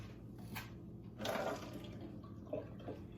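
A quiet splash and gurgle of water poured out, with a few faint drips afterward.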